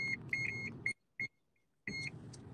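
Sharp, high electronic beeps, several in quick succession, then a lone beep after a pause, and more near the end, over a low background murmur, loud enough to be mistaken for a smoke alarm.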